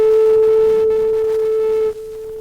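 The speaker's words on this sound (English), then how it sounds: "That's the sound of the second fork continuing to vibrate freely after being started in resonant vibration by the first fork." A tuning fork rings freely after being set vibrating by resonance with a matching fork, giving a single steady pure tone, clear and close, that holds evenly and dips slightly near the end.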